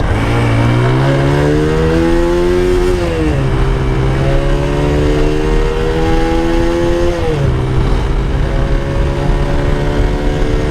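A TVS Apache RTR 2V motorcycle accelerates hard in a speed test, its engine note loud and continuous, rising in pitch through the gears with two clear dips at gear changes.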